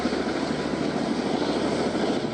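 National Guard helicopter flying during a flood rescue, a loud continuous rotor-and-engine roar that fills the whole moment with no voices.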